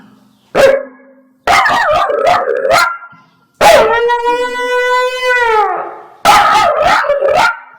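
A person imitates dogs: a short bark, a run of quick yelps, a long wavering howl, then more barks, all loud and close.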